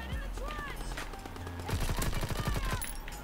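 Rapid bursts of gunfire from the World War II Call of Duty video game, a run of sharp shots crowding together near the middle, set over steady game background sound.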